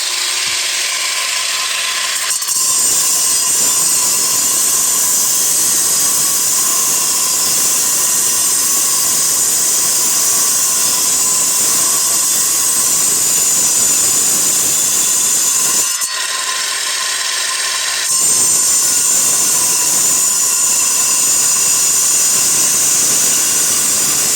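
Concrete support pillars being cut with a saw, a loud steady grinding whine running almost without break, with two short dips where the blade eases off.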